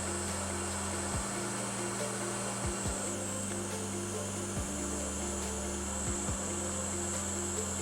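Hot air blowing on an iPad 7 touch FPC connector during microsoldering repair, a steady close airy whoosh with a low fan hum and a few faint clicks, heard alone.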